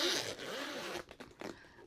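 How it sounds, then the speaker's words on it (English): Zips on a marker carry bag are pulled open, a close, loud zipping rasp followed by a few shorter tugs and rustles, with no speech. "When you open the zips"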